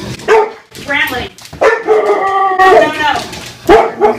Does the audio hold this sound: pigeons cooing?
no